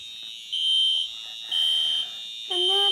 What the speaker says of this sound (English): It has a red light right there. That means it's an alarm.